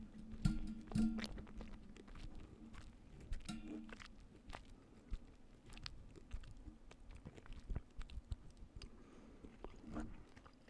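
Skittles candy being chewed close to the mouth, with soft moist crunches and squishy bites in an irregular rhythm, a few louder crunching bursts early on, no talking.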